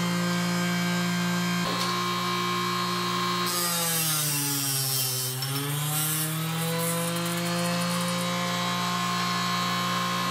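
A saw blade cuts through an arrow shaft in a workshop, giving a loud continuous whine that holds a steady pitch, then dips and rises in the middle as the blade bites through before leveling off, with no voices.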